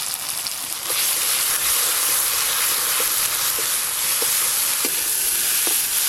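Taro and a ground spice paste of mustard, cumin and dry chilli fry in a pan, a loud continuous hiss with light periodic scrapes of stirring, and no voices.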